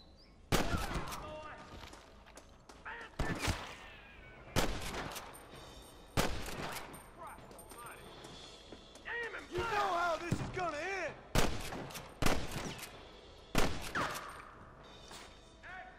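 Gunshots ring out in a Western-themed Red Dead Redemption firefight, a series of sharp, loud cracks spaced irregularly over several seconds, with occasional quicker bursts and faint background game sounds between them.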